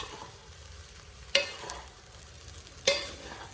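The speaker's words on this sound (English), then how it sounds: "Please mix gently so you don't break the rice grains." Gentle stirring of beef fried rice with a wooden spoon, soft scraping under a faint sizzle, with two sharper scrapes of the spoon against the pan spaced about a second and a half apart.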